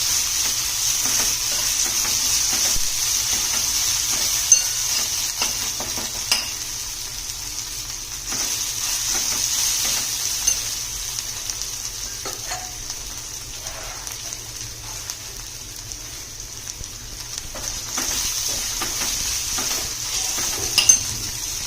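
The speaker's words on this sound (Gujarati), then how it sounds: "જ્યાં સુધી એનો કલર છે એ ચેન્જ થાય ત્યાં સુધી આપણે એને સાંતળવાનું છે, જેથી કરીને લસણની કચાશ વહી જશે" Garlic and ginger masala sautéing in a pan, a steady close sizzle with occasional stirring scrapes and faint crackles, continuous throughout.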